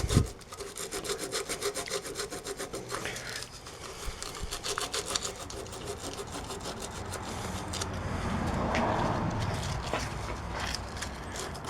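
Scraping rust and crusty dirt off the armature of a 1966 Briggs & Stratton small engine: a steady, close rubbing and rasping scrape that continues throughout with no talk.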